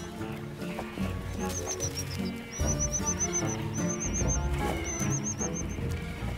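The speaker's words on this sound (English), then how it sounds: "Polyphonic begging cries yield multiple amounts of food." A cuckoo chick in a reed warbler nest gives rapid, high-pitched begging calls in repeated bursts of chirps, clear over a busy background of other rustling and low noises.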